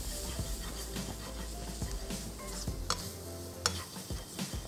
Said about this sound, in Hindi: मैदा शामिल करके इसकी थोड़ी सी भुनाई कर लेंगे